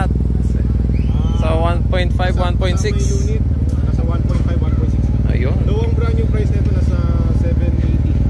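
A Yamaha T-Max motorcycle engine idles steadily with a low, even drone running under close conversation from start to finish.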